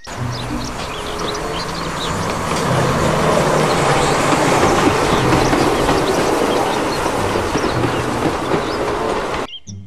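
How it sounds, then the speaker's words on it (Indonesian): A toy Thomas train rumbles loudly with a rhythmic clickety-clack of wheels on track, building and holding steady before stopping abruptly. "Kereta Thomas."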